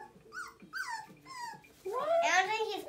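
Four-week-old puppies playing with a toy give a run of small yips, whimpers and squeaky growls close by, rising into a louder whining cry near the end, with no clear talk over them.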